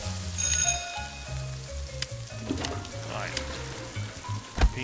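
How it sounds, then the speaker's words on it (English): Okra and wieners frying in the cooking game Cook Serve Delicious 2: a steady, moderate sizzle runs throughout beneath tonal game music and small interface blips. "Now, I can kindly... get some more okra cooking. And number two, let's get some more wieners cooking."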